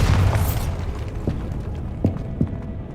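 The Bombarda explosion spell in Hogwarts Legacy opens with a loud, broad blast. A few faint, scattered pops and knocks follow as it dies away.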